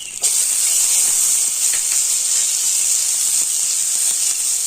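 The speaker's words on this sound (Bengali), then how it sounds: "তো আদা জিরে একটু ভেজে নিয়ে এর মধ্যে দিয়ে দেব টমেটো" Chopped tomatoes hit hot oil with frying ginger and cumin, setting off a sudden, loud hissing sizzle that holds steady with faint stirring scrapes underneath.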